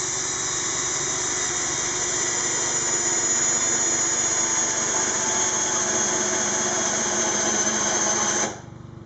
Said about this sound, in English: Drill down, put it in reverse, and leave the drill bit in there.